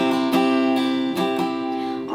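Acoustic guitar strums the chorus chords of a song, several bright strokes in a down-up pattern ringing clearly and alone, with no voice.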